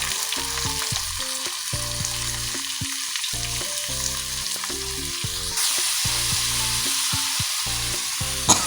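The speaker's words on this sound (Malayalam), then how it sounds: "ഇതിലേക്ക് നമുക്ക് കീറിയ പച്ചമുളക് ഇട്ട് കൊടുക്കാം, അതുപോലെ തക്കാളി ഇട്ട് കൊടുക്കാം, വെളുത്തുള്ളി ഇട്ട് കൊടുക്കാം" Slit green chillies, tomato and garlic fry in hot oil for a sardine curry, producing a continuous close sizzle with stirring, with background music running over it.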